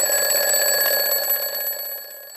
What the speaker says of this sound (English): You can play the buzzer now, James.